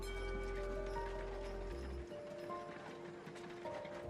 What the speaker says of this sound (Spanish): Eran tirados por caballos.